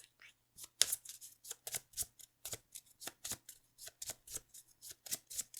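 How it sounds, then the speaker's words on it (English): Cards for the tabletop game SpaceShipped are shuffled close up in a quick rhythmic series of crisp riffling flutters, each burst short and sharp against near silence. "You get a little shuffle."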